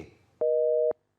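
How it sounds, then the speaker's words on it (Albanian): A single steady electronic busy tone sounds for about half a second after some faint background noise as a viewer's call to a TV studio drops, then stops, leaving silence. "Ka rënë linja."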